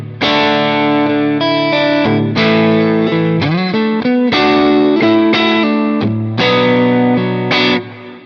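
Electric guitar played through a Neural DSP Tone King capture on a Quad Cortex, sounding loud, close and saturated, with sustained strummed chords and single notes ringing in steady phrases and no talking.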